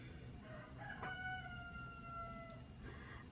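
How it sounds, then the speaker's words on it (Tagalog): Rooster crows with long drawn-out harmonic calls at a rural spot, with other chickens around, the crowing fairly clear over a steady low background rumble and hiss. "Ayan ang mga manok."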